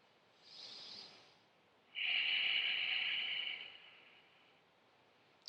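Two deep breaths through the nose during a yoga flow, a softer inhale followed by a longer, stronger hissing exhale, close and alone with no talk.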